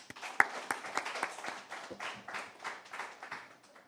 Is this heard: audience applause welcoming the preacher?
yes